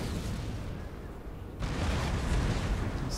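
Cannon fire rumbles through a Napoleon: Total War battle, heavy, dull booms rolling together into a continuous roar that swells louder halfway through.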